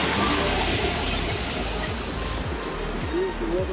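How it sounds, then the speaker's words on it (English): A jungle waterfall near Puerto Vallarta roars as a loud, steady rush of water, with someone talking briefly over it. "Here's the waterfall."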